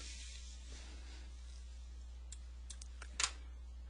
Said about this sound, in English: So let's double click here.